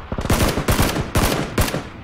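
Rapid automatic gunfire in PUBG, loud and close, coming in four dense bursts separated by brief gaps, with no talking.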